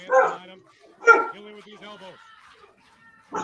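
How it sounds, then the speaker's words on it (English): A dog barks nearby in three sharp bursts, with softer whining yips in the gaps between them. "Dog's barking at nothing."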